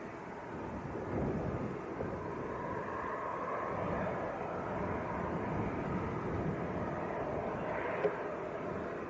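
Jet2 Boeing 737-300 arriving from Paris at Leeds Bradford Airport, a faint, distant, steady low rumble of jet engines spread over several seconds, with a soft thump near the end.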